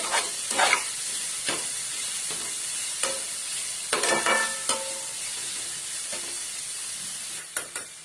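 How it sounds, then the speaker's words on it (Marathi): Chopped onion fries in a pan for a potato bhaji, giving a steady sizzle broken by spatula scrapes and knocks every second or so, close and moderately loud with no talking. "कांदा थोडा गोल्डन होईपर्यंत फ्राय करून घेते"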